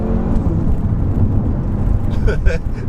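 An Audi RS3's engine hums and rumbles close by at a steady, loud level, with a brief voice-like burst near the end.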